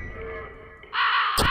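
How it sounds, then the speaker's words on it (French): A swarm of crows cawing in the horror video game Fear & Hunger, a short loud burst of harsh cawing that rises abruptly out of a low background murmur, followed by a sharp thump. "Le nuée de corbeau, je pense que ça vient de la tête."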